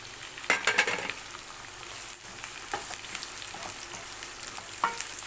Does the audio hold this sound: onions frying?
yes